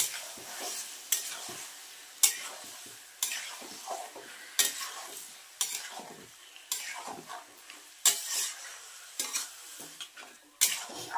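A spice mix with ginger garlic paste being stirred and fried in a pan: repeated scraping strokes of a utensil roughly every second over a soft, quiet sizzle, close up.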